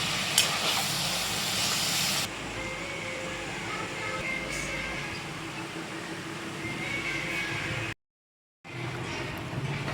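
Curry bubbling in a pot on the stove, giving off a steady loud steamy hiss with a brief gap near the end.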